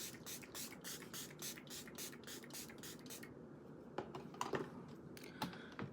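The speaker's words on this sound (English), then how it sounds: "Get your setting spray. This is the Milani Make It Last Original." Milani Make It Last Original setting spray is pumped in a quick run of about a dozen sharp, close hissing spritzes, then a pause and a few scattered softer spritzes and small handling clicks.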